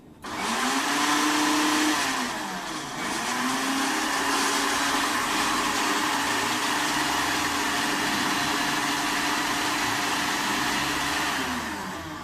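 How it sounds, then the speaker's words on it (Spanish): A kitchen blender runs loudly and steadily, blending banana with ice cream. It starts up abruptly and whirs continuously with slight shifts in pitch as the mixture churns, and no talking is heard. "Y volvemos a prender la licuadora."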